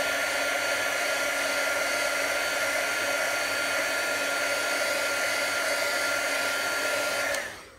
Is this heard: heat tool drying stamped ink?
yes